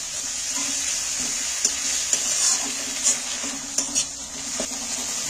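Garlic paste, added after fried onions, fries in a pan with a constant bright sizzle, close and steady, broken by a few soft stirring knocks and scrapes.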